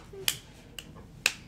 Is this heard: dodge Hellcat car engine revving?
no